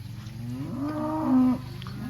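A herd of cattle comes through a gate on a grazing pasture while one cow gives a single drawn-out moo, rising and then holding low, heard at moderate distance over quiet outdoor background.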